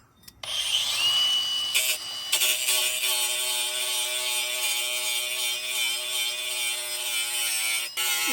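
A power grinder works against a painted trailer hitch receiver, a steady high-pitched whine with a harsh abrasive edge that starts abruptly, holds loud and close for several seconds, and dips briefly near the end.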